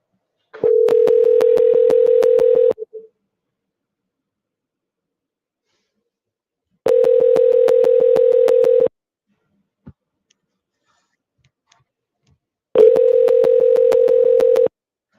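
Telephone dial tone heard during a string of outgoing phone calls, three steady two-second tones separated by silent gaps, with a faint click between them.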